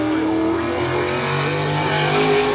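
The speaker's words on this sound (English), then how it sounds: "That black, orange, and white 6 car, as he comes off for turn number 4, he'll get the checkers." A modified race car roars around the Bowman Gray Stadium track during qualifying, its engine loud and steady with a continuous revving drone and no talk over it.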